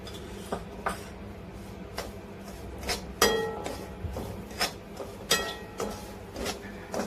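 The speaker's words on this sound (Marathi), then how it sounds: "तो रवा आता आपण बारीक गॅसवरती भाजून घेऊ छान। रव्याला थोडंसं तूप टाकून भाजून" A spoon knocks and scrapes in a pan as fine semolina roasts in ghee over a low flame. The clinks come in a loose, irregular rhythm over a quiet background, with no talking.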